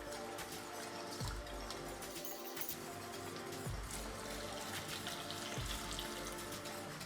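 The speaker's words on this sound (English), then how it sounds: "Finally, I add enough water to moisten the eggplants." Water is poured into a pan of eggplants, a quiet continuous splashing trickle with a few soft clunks, heard close and without talking.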